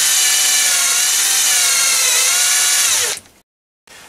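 A loud, steady high-pitched whine of a drill on a lathe cutting metal runs for about three seconds, then cuts off abruptly into silence.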